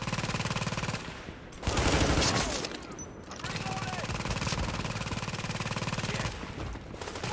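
Deployed turret firing in The Division, sustained rapid automatic bursts with brief pauses between them, loud and close, as a voice talks over the shooting.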